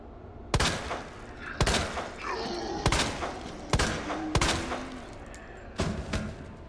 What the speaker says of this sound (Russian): Так, вот этого чувака можно убить выстрелом, одним выстрелом.